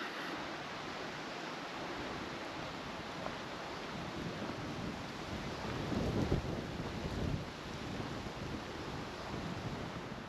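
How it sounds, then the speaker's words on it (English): Wind gusts through a dry Utah canyon, a steady broad rush that swells louder midway and then eases, heard alone and fairly faint with no voices. "Wind's picking up."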